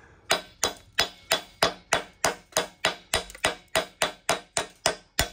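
A hammer strikes metal in a steady, even rhythm, a dozen sharp ringing clangs in a row, close and loud, with no talking.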